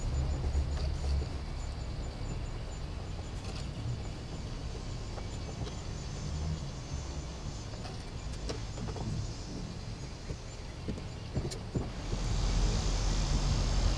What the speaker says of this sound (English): Now you can go ahead and start screwing them all in.